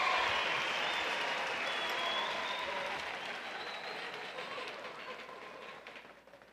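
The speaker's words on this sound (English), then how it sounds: "Please join me in one more round of applause for our graduates." Sustained applause fills a large commencement ceremony honoring graduates, a dense steady wash of many hands clapping that gradually thins and fades toward the end, with no voices standing out.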